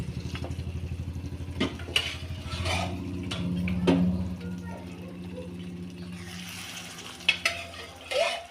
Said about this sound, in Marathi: मसाला 2 ते 3 मिनिट असे पीस परतून घेऊ।